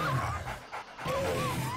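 A pack of zombie dogs in the survival game 7 Days to Die pants and snarls in a dense, close cluster, with breathy rasps and whining tones, no speech.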